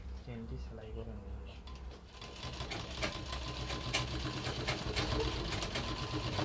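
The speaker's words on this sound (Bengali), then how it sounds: "এখন এই লম্ব বরাবর নিচের কাপড়ের সাথে অ্যাডজাস্ট করে উপরের কাপড় রেখে চেনটি সেলাই করে নেব।" A sewing machine stitches a zipper onto trousers, running as a steady close mechanical whir with fast rhythmic needle ticks, while a person talks over it throughout.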